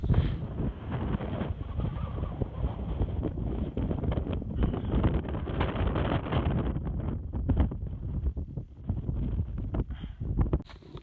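Strong gusting wind buffets the microphone on a cold mountain top along the Sulphur Skyline Trail in Jasper National Park, a loud continuous low roar with surging gusts and no talking.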